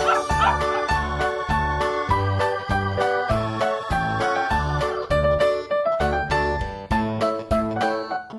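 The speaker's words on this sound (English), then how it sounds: "Dog." A dog barking and yipping in a quick, regular series of sharp calls, close and loud, repeating steadily throughout with a faint jingling behind.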